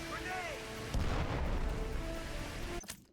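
A grenade blast in the 007 Legends video game, a deep, loud boom that swells over game music and rolls on for nearly two seconds before cutting off.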